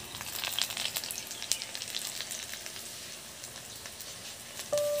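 Pointed gourd pakoras fry in hot oil in a wok, a dense, steady crackling sizzle with scattered pops, close and fairly even throughout, ending with a brief louder clunk, no voices.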